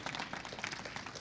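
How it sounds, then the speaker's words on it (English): Church congregation clapping hands together in praise during a Sunday worship service, a brief burst of dense, steady applause from many people at once. "Give God a happy hand clap for how good he is."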